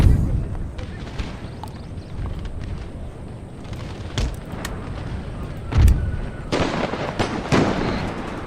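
Cannon and musket fire in the battle game Empire: Total War, a steady rumble of distant volleys and booms, with louder blasts near the end.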